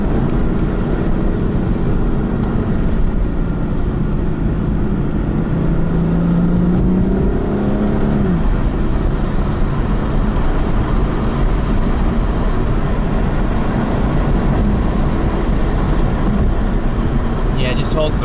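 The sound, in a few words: BMW M4 car driving on open road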